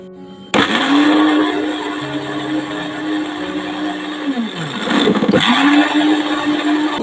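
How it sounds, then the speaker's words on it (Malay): A blender starts abruptly and whirs loudly, its motor pitch dipping and surging as ingredients and liquid churn, briefly straining before revving again. "Masukkan air bagi memudahkan kita mengisar."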